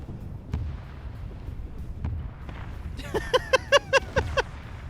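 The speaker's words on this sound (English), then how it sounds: "Oh, you hear the heavy cannons firing again." Heavy cannons fire in a military video game campaign: dull, distant booms thud a few times, followed by a quick run of sharp tonal bursts.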